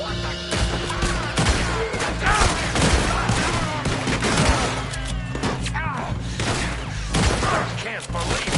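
Heavy gunfire in the video game Red Dead Redemption 2 during a shootout: dense, continuous volleys of shots and booms pound without pause, with voices mixed into the chaos.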